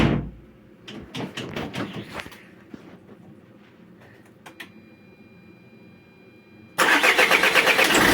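A Peugeot 407 2.0 HDI diesel engine cranks with several rapid starter bursts, falls quiet with faint clicks, then abruptly catches and roars into a loud, steady run after timing belt replacement.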